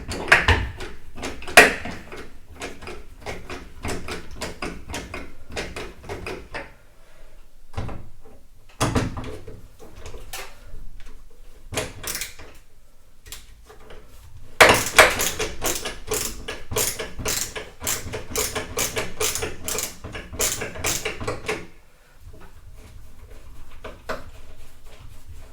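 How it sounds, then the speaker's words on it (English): Screws being tightened on a recessed ceiling speaker fitted into plasterboard, with a ratcheting screwdriver clicking in fast runs and bursts between pauses and occasional louder knocks. "So that's in place now, we're just going to tighten the screws up."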